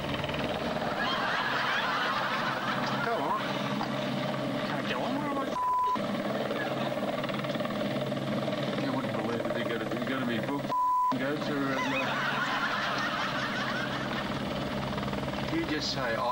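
Police helicopter passing overhead, a steady rotor drone running throughout with brief beeping tones, heard beneath excited talking from several people.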